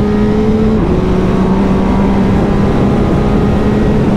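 MV Agusta Turismo Veloce three-cylinder motorcycle riding near the lake at Castel Gandolfo, a steady loud engine drone with a held tone that shifts slightly in pitch, continuous with wind and road noise and no talking.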